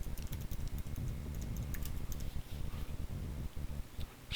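Soft, rapid keystrokes patter on a Mac computer keyboard as a password is entered, quiet and close with uneven rhythm and no talking.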